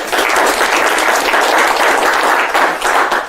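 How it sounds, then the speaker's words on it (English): Audience applause at a live magic show, a loud, close burst of crowd clapping that stays dense and steady throughout, with no talking over it. "Give me a round of applause."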